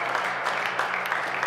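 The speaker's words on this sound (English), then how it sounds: "Applause." A darts crowd at the BDO Namibian Open 2024 applauds in a dense, continuous wash of clapping that stays steady and fairly loud for the whole stretch.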